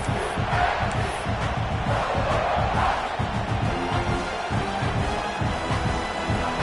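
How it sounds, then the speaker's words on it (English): A large home stadium crowd roars steadily throughout, a dense wash of many voices shouting and cheering at close range with no pauses. "this home crowd is fired up and ready to make a difference today"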